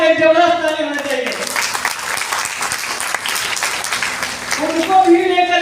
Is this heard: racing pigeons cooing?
no